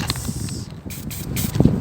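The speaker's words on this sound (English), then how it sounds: "So let's put some spray paint in there and coat the surface." A short burst of hissing spray from an aerosol spray paint can spraying onto water, with faint mechanical clicks, steady and close over low background noise.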